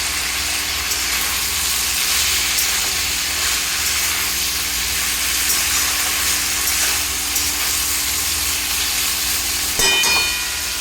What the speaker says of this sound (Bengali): নুন দিয়ে নাড়াচাড়া করার পরে আমি দিয়ে দেবো এখানে জল।